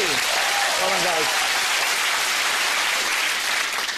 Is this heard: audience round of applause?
yes